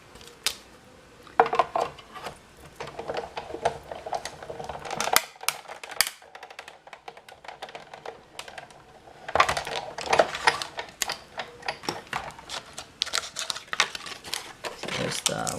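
Framelit dies for a candy jar card run through a die-cutting machine in repeated bursts of clicking, clattering and rattling, close and busy throughout, with one brief quieter gap midway.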